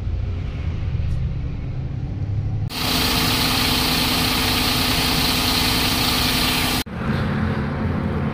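A Volvo 9600 AC sleeper bus engine runs with a steady, loud broadband roar that jumps up sharply midway and holds, then drops back to a lower rumble near the end.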